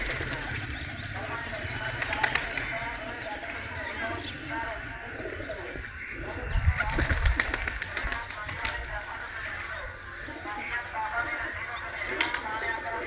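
Pigeons burst into flight from a rooftop loft, a few sharp wing-flapping flurries rising over steady outdoor background noise, with soft cooing and chirps from nearby birds.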